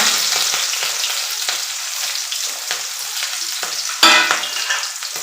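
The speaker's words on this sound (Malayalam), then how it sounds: "ഇതിൻ്റെ അകത്ത് നമ്മൾ ഒരു സവാളയും പച്ചമുളകും കൂടെ ഇട്ട് കൊടുക്കാം." Onion and green chilli fry in hot coconut oil with mustard seeds and urad dal for upma, giving a steady close sizzle with scraping stirs and a sharp clatter partway through.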